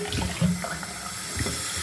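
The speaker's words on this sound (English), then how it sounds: "Then I rinse my towel out." Cold tap water runs into a bathroom sink while a towel is rinsed under it, the splashing shifting slightly as it moves through the stream.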